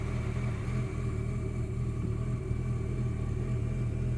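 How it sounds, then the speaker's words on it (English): Mini Cooper R56 engine idling slightly lumpy, a steady low rumble with a faint uneven pulse, heard close and alone without talk. "Okay, idling a little, maybe a little lumpy."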